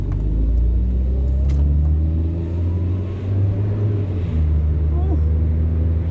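Car accelerating hard on kick-down, a loud close engine rumble that builds and shifts pitch as it pulls through the gears, with some talking over it.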